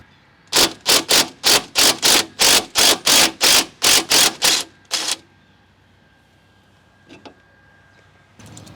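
A ratchet with a 14mm socket works a rear sway bar link bolt on a 2003 Toyota Camry with a 2.4L engine, giving about ten loud, evenly spaced mechanical strokes. A pause follows, then a couple of faint clicks.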